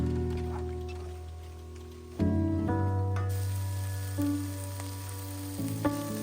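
Kallumakaya mussels fry dry in an open pan in Malabar style, a soft continuous sizzle running under sustained tonal music that shifts pitch now and then.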